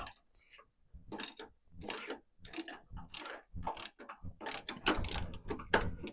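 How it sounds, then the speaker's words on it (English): A ratchet fitted with a wobble extension clicks on a Volkswagen Super Beetle engine, quiet bursts of rapid ratcheting strokes repeating in an uneven rhythm, close by and faint. "So get the ratchet."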